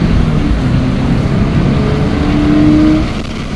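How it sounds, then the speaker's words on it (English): A 2020 Subaru BRZ sports car accelerates hard with its tires spinning, a loud, steady engine roar that holds throughout and eases off slightly near the end, with no talking. "Wow, we already got some tires spinning."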